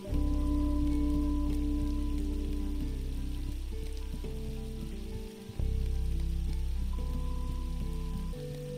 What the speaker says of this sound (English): This is really nice, like, rain vibes.